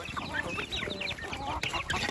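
Breeding chickens on a Thai farm clucking repeatedly in quick, overlapping bursts, close and fairly loud, with a faint voice underneath.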